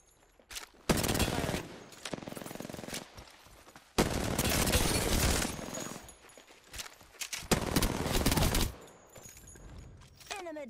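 Bursts of rapid gunfire from a 1v1 tournament video game match, three loud sustained volleys separated by quieter gaps, with faint talk and ambient game sounds between them.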